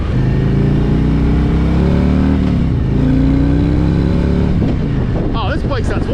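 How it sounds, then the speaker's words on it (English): A Harley-Davidson touring motorcycle, a Street Glide or Road Glide with a Batwing fairing, rumbles steadily under way, its engine and exhaust loud and close with a deep, even drone and a brief rev change near the end. "Oh, this bike sounds wonderful. I like the exhaust of this bike, wow."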